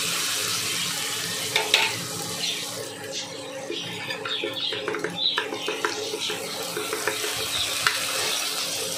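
Okra frying in a pan with a pinch of asafoetida, a steady soft sizzle with occasional stirring clicks and scrapes, fairly close and continuous throughout.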